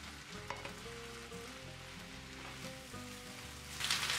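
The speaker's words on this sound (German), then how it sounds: "Nachdem die Zwiebeln angebraten sind, gebe ich die Kartoffeln hinein." Peeled, grated raw potatoes fry in oil with onions and garlic in a pan, giving a steady, soft sizzle and crackle that swells toward the end, heard over quiet background music.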